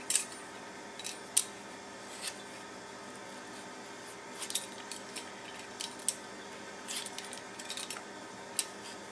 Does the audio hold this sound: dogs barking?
no